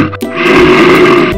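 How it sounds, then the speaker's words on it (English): A gorilla grunt in a children's colour-learning clip, a loud, rough, sustained guttural growl after a brief lower grunt, alone. "Gorilla."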